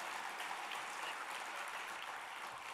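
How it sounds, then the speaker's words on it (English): An audience at the 2018 San Antonio Business Hall of Fame ceremony gives a round of applause, a steady, hissing wash of many hands clapping, dense and sustained, somewhat distant, with no speech. "give a round of applause for all six of the men that are flying these planes right now"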